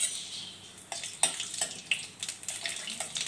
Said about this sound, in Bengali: তেলটা গরম হয়ে গেছে, এর মধ্যে দিয়ে দিলাম এবার আমি কালো জিরে